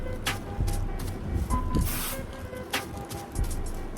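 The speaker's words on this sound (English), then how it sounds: "Shake your can up, spray it really good" Short hissing bursts of a spray paint can painting a subwoofer box, several quick sprays with a longer one in the middle, close by and fairly quiet, with faint clattering.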